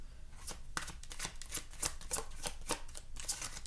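Tarot cards are shuffled repeatedly in quick riffling bursts, a crisp flapping rustle recurring in an uneven rhythm, close and clear with no talking.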